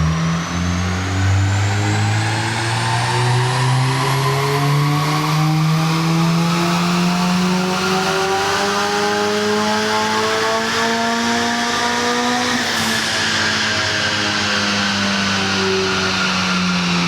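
A tuned turbocharged car, freshly tuned at CMS Performance, accelerates hard with a loud, close engine note that climbs steadily in pitch, drops briefly at two gear changes, then climbs again.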